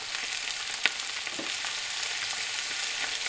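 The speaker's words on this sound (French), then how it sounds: "Et on va les faire rissoler un petit peu." Carrots, potatoes and squash flesh sautéing with onion in a pot for a squash soup, a steady close sizzle with a few faint stirring clicks and no voices.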